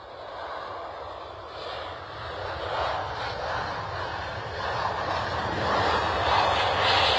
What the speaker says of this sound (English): Next departure makes its way onto the runway